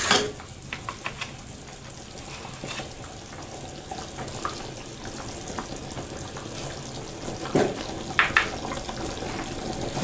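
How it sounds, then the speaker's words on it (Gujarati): Spoon stirring methi dana shaak with jaggery in a pan, soft scraping and faint sizzling with a few sharper clinks, fairly quiet and close. "આપણે ગોળ નાખ્યા પછી તેને આ રીતે સરસ હલાવી લઈશું"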